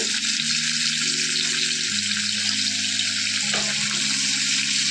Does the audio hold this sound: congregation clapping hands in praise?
no